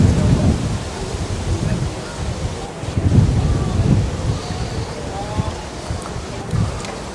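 Strong wind gusts buffeting outdoors during a garden plant tour, a steady low roar with surges around the middle, and a person talking faintly beneath.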